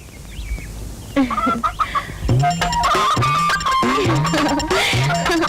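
Loud, close chicken calls: a rooster and hens cluck repeatedly in quick, uneven bursts, growing busier and overlapping toward the end.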